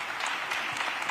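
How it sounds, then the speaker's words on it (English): An audience applauds at a live event at Edward Waters University in Jacksonville, Florida, with a brief, steady burst of clapping heard from a distance and no clear talk over it. "y'all go ahead clap"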